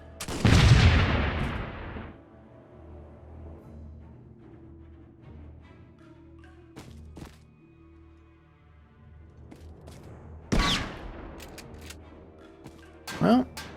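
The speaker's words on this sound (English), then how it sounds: "Another rifle grenade." Rifle grenade blasts in the tactical video game Warmachine Tactics, set in urban combat: a loud burst opens, followed by quieter clanks and two sharp impacts near the end.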